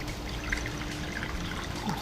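Water poured from a cup into a pot of milk while cooking aval (flattened rice) sheera, a steady close trickle and splash running without a break.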